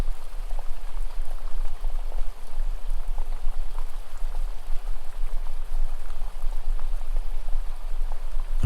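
Steady, even rain hiss, continuous and soft for the whole stretch with no pauses or voices.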